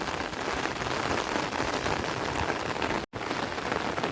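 Steady rain pours down outdoors during a monsoon shower, a dense continuous hiss of drops on surfaces, close and fairly loud, with one brief cut near the end.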